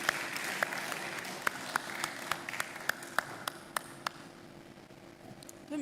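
Audience applause at a retail congress awards session: a steady wash of clapping with sharp, bright pings standing out about every third of a second, then swelling again at the end.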